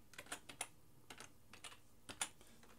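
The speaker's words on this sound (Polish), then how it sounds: "Wpisujemy tutaj dane." Keys clatter on a computer keyboard in quick, uneven bursts of soft clicks, close and quiet, with brief pauses between groups.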